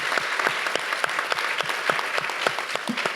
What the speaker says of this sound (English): Please, let's give Pam a round of applause.